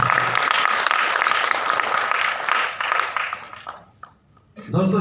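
An audience at a closing event for a business venue applauds loudly and steadily, the clapping thinning out near the end before a voice speaks.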